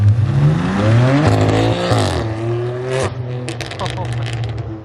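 A BMW F80 M3 fitted with an Ark Performance DT-S exhaust drives by loudly, engine note rising and falling as it passes with crackling burbles, while people talk over it.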